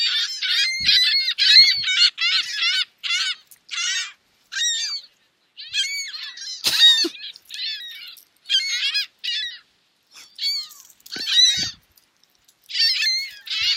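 Geese honking in repeated bursts, a busy overlapping chorus of loud, nasal calls with short gaps between groups, close by and without talk.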